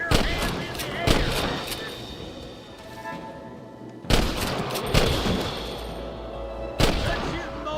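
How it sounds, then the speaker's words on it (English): Gunfire in the Western video game Red Dead Redemption, several sharp loud shots and volleys at irregular intervals, ringing out over a continuous background din. "Good shooting, boy!"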